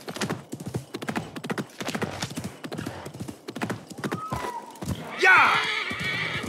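Rhythmic hoofbeats clip-clop at a steady gallop in the video game Assassin's Creed Mirage, then a horse whinnies loudly near the end.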